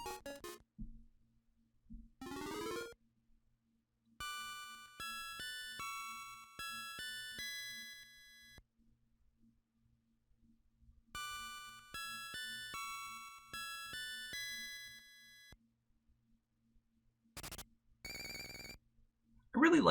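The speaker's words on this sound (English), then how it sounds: "I really like the music box sounds." Chiming music box tune from the video game Wario Land 3, bright plucked notes in quick melodic runs, broken by a few short sound effects and a brief sweeping jingle, moderately quiet with no talk.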